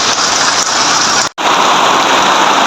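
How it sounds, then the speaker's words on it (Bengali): Loud, dense rain pours steadily in Malaysia, heavy enough to cause flooding, a continuous roaring hiss broken only by a brief dropout midway. "আজকে আবার বৃষ্টিটা শুরু হইলো"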